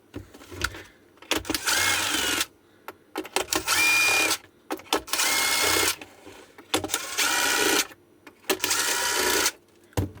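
A power screwdriver backs Phillips screws out of an e-bike battery, several bursts of close, whirring motor noise separated by short pauses, with no talk.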